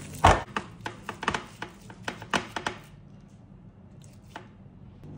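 Hands pressing and shaping meatloaf mixture inside a plastic sheet, a cluster of close, crinkly squishes and slaps that thin out into quiet after about three seconds.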